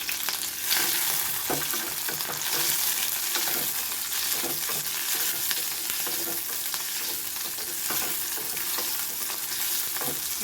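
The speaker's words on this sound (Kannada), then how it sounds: "ಒಂದು ಅರ್ಧ ಈರುಳ್ಳಿ ಸಾಕು, ಫ್ರೈ ಆಗ್ತಾಯಿದೆ." Half an onion fries in a pan for peanut chutney, a continuous close sizzle with frequent stirring scrapes and light clinks of the spoon against the pan.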